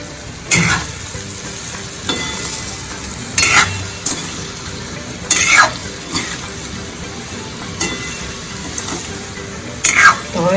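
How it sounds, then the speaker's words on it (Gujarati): A large spoon stirs ras patra (Gujarati sweet-sour colocasia leaf rolls in gravy) in a pan, giving several distinct scraping, clinking strokes spaced a second or two apart over a steady low simmering hiss, fairly close and moderately loud. "હવે તેને ચમચાના મદદથી હલાવી લેશું"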